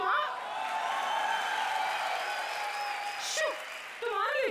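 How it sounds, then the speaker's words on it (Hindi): A studio audience at a comedy show claps in a steady, dense wash of applause that carries through the whole stretch, with voices speaking over it. "वो लोग मेरे लिए ताली बजा रहे हैं।"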